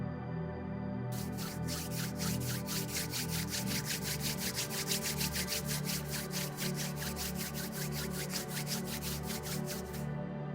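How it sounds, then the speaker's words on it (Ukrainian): Palms of two hands rubbed together gently, a steady run of soft, rapid rhythmic friction strokes that carries on without pause, close and fairly quiet. "Ми беремо ваші долоні і розтираємо м'яко-м'яко одна об одну."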